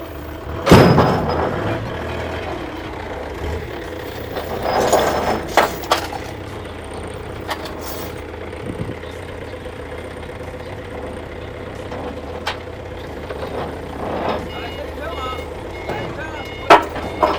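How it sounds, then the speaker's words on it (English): At a Chinese used-car export yard, the last car is loaded into a shipping container while a heavy engine idles, reversing beeps sound, and scattered clanks and knocks ring out against the low rumble, with voices now and then. "let's finish with loading our container"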